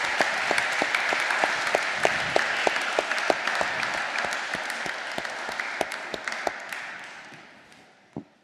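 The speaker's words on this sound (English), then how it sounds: "this seems an applause to the Disruption Lab" A conference audience applauding the Disruption Lab panel, dense steady clapping from many hands that holds for several seconds, then thins and dies away with a last few claps.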